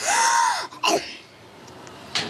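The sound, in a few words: child imitating people coughing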